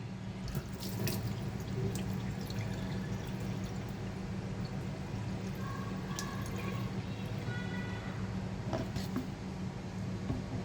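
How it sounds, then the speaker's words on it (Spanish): Water running steadily into a large jet water pump tank and its pipework to prime it, a continuous close splashing flow with occasional drips and clinks. "vamos a llenar ese tanque de agua y toda la tubería"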